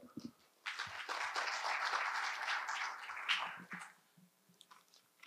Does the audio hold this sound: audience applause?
yes